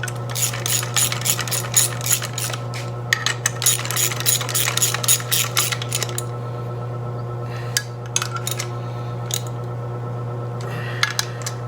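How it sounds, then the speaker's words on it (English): Hand ratchet tightening top-end screws on a 1990 Harley-Davidson FLHTC Evo engine, sharp rapid clicking bursts in close quarters over a steady low hum, pausing and resuming several times. "now I gotta tighten up those screws in there"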